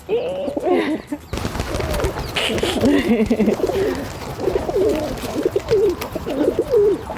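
Pigeons coo repeatedly and close by on a Seville street, their rolling calls overlapping in a steady, fairly loud run after a brief pause near the start.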